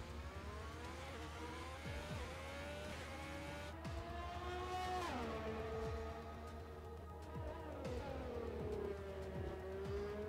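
A Ferrari Formula 1 car in the F1 2020 racing game roars down a long straight at over 300 km/h on the Hanoi circuit, its engine pitch rising and dropping through gear shifts with a brief tire squeal, loud and close.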